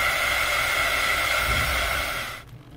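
A heat gun blows steadily on the adhesive under a Samsung Galaxy S10 Plus back panel, a loud, even airy hiss that fades out just before the end.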